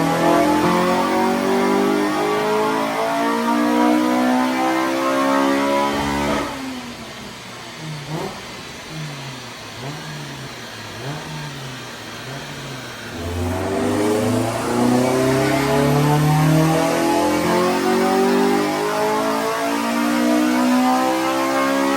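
A tuned Honda Civic EP3 Type R with a Skunk2 Ultra Series manifold, throttle body and new injectors revs on a dyno, its engine climbing through long loud pulls, then dropping to a lumpy idle before sweeping up again, close and alone.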